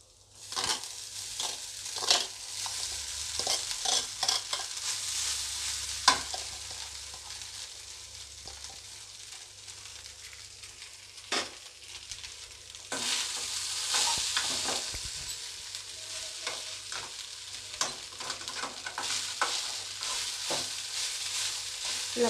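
Boiled rice being stirred in a pan while making lemon rice, a steady scraping and sizzling with rhythmic spatula strokes and clicks throughout, fairly close and moderately loud, with no talking.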